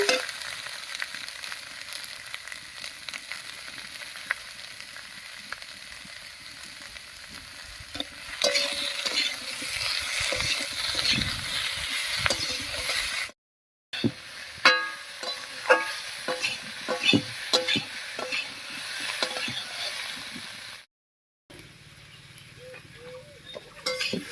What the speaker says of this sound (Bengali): ফোড়নের উপরে এঁচুরটা দিয়ে একটু নাড়িয়ে নিয়েছি